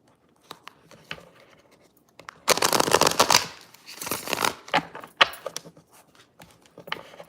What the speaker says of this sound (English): I'm going to shuffle these real quick.